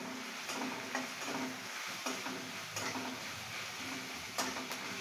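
Chopped onion frying in a pan as garlic paste is added and stirred, a steady soft sizzle with light scrapes and ticks of the utensil against the pot.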